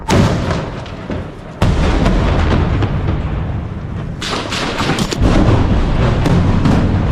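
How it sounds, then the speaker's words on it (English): Heavy combat gunfire in a close-quarters battle between Ukrainian and Russian fighters, loud and continuous, with dense overlapping shots and deep booming impacts filling the whole stretch without any speech. "Both sides open fire from the small arms, and the battlefield turns into real chaos."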